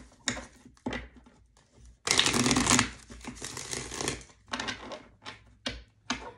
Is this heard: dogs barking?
no